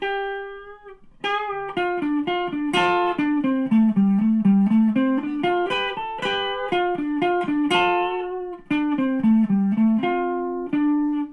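An electric guitar plays a solo slowly, a melodic line of distinct picked notes and double-stops rising and falling over about eleven seconds, close and clean with a short pause near the end.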